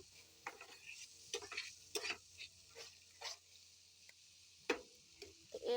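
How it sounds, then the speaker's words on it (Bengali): Spatula stirring spiced masala with coriander and green chili paste in a pan, cooking down for a hilsa jatka mustard curry: irregular scraping strokes over a soft sizzle, close up, no talking. "আগে মশলাটাকে ভালো মতো নেড়ে চেড়ে একটু কষাবো"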